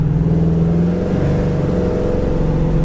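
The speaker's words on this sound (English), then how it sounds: "you punch it down, it just lets the tires completely loose" A 1973 Dodge Challenger Plum Crazy revs hard, its engine note holding loud and steady as the tires are let loose to spin, up close with no talk.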